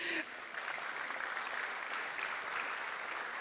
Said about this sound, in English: please make the applause very loud.